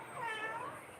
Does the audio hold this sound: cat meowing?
yes